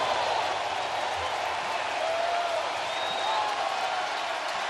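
A baseball crowd at Busch Stadium in St. Louis roaring steadily during a Dodgers vs Cardinals game, a dense, continuous wash of cheering with faint whistles rising through it.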